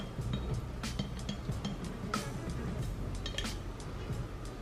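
A peppermint oil mixture for crystal massage bars is mixed in a bowl, giving faint, irregular clinks and scrapes over a steady background hiss at close range.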